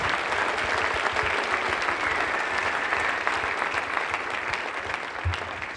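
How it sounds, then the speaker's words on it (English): Sustained applause from an audience at a 2014 debate event, a thick, continuous patter of many clapping hands at even volume, with faint crowd murmur underneath and no clear speech. "Give him a nice round of applause once again, please"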